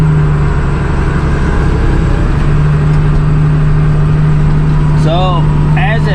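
Road grader engine running steadily with its deck dropped to the ground, picking up and mixing gravel; a loud, constant low drone continues throughout, with brief squeaky scraping sounds near the end.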